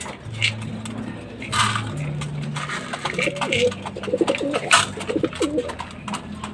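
Pigeons in a loft coo and squabble, low rumbling coos repeating under scattered wing flutters and scuffling, fairly close and steady throughout.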